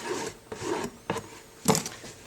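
Covering material being rubbed down along the top edge of a handmade bookbinding slipcase, four close, dry rasping strokes of varying length with brief pauses between, no speech.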